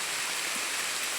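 Rain falls steadily outdoors in the rainy season while mushrooms are being foraged, a dense, even hiss of drops close by with no voices.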